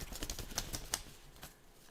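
Tarot cards being shuffled by hand, a quiet series of crisp riffling clicks and soft slaps in an irregular rhythm, close but faint, without speech.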